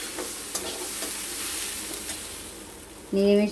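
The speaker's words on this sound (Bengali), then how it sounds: "ওই ডালগুলোকে আমরা একটু লাল লাল করে ভেজে নেব" Mung dal sizzles gently in a pan, a soft continuous frying hiss with light stirring scrapes, followed at the end by a brief loud tonal burst.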